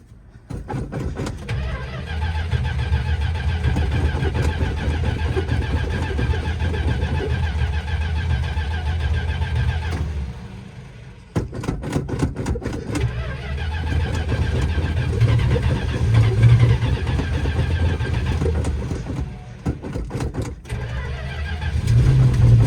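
A 1965 Plymouth Belvedere II engine cranks, catches and runs with a steady low rumble, cuts out briefly, then is restarted and keeps running loudly up close.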